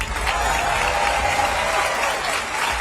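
A large crowd at a Donald Trump speech claps steadily and loudly, sustained applause with a few cheers mixed in and no clear speech.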